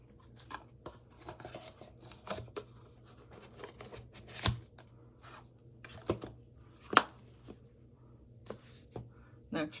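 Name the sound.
shuffling a tarot card deck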